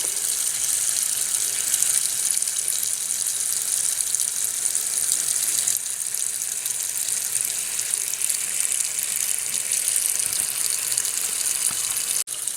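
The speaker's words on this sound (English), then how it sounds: "I'm just going to put the cold water right on top of the lettuce" Cold tap water pouring steadily into a bowl of lettuce, a continuous close, loud gushing splash that runs unbroken for the whole stretch with no voices.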